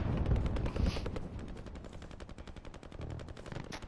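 Rapid machine-gun bursts and rattling gunfire crackle in a shooter video game, a steady run of sharp shots at moderate distance with a faint voice now and then.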